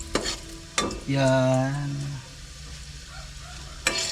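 Chopped onion and garlic hit hot oil in a pan and are stirred, giving a steady sizzle with scraping strokes, framed by short bursts of a voice speaking nearby.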